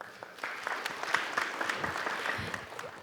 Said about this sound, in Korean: 김정빈 교수님 큰 박수로 맞이해 주시기 바랍니다